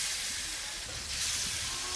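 Fish frying in hot oil in a kadai with black cumin seeds, a continuous dense sizzling hiss that holds steady throughout and swells slightly near the end, close and loud with no talking.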